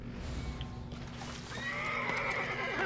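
Video game horse lets out a whinny after being kicked, a shrill neigh rising near the end with faint hoof clops earlier, fairly quiet and without talk.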